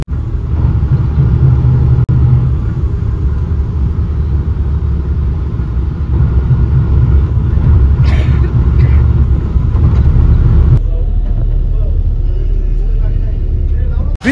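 Loud steady engine rumble and road noise from inside a car driving through Pune to the Swargate bus stand, continuous throughout with a voice talking over it.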